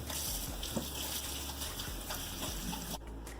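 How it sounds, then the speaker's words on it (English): Hands are washed under a running kitchen tap while wontons are being made, a steady close gush of water with irregular splashes as the hands move, and the flow cuts off abruptly near the end. "Wash my hands."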